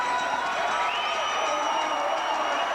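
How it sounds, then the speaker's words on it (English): Football crowd at the 1988 Western Final between the Okanagan Sun and the Hilltops cheering in a standing ovation, a steady, roaring wash of many voices with rising whistles, distant and sustained. "a standing ovation as the crowd runs out onto the field"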